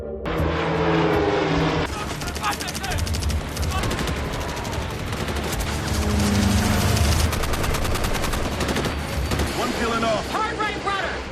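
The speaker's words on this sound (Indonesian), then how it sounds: "Sasha dan Green yang telah menyelesaikan baku tembak dengan tentara Grand Columbia" Dense, loud gunfire in a TV series shootout with soldiers: rapid volleys and machine-gun bursts crackle almost without pause, mixed with mechanical rumble.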